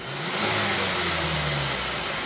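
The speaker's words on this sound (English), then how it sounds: "If I rev the car up, you will see the value going up, the graph going up." A car engine is revved up during a mass air flow sensor test. It climbs from idle into a loud, sustained rising roar close by, with no talking.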